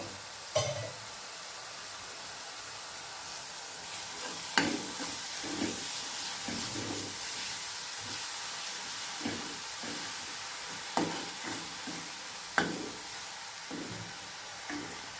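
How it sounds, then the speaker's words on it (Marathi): Raw ground masala paste sautéing in oil in a pan, a soft, low sizzle with occasional spoon scrapes and taps as it is stirred, fairly quiet and without any voices. "चांगलं तेल सुटस्तवर आपल्याला मसाला परतून घ्यायचा आहे."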